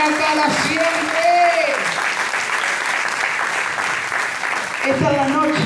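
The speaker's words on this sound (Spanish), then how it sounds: "Dale fuerte el aplauso al que vive y reina para siempre." An evening worship congregation bursts into strong, sustained applause that fills the room, while a preacher's raised voice rings out over the start and end of the clapping.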